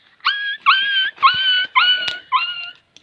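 A boy imitates a dog with his voice outdoors at a village field football game, giving five drawn-out howling yelps in a steady rhythm, loud and close, with no talk over them.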